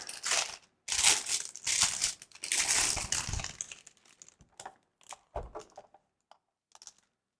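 Plastic bag crinkling as a keyboard is pulled from hard plastic packaging, bursts of rustling and crackling for several seconds, then sparser, lighter crinkles and handling clicks close by, no talking.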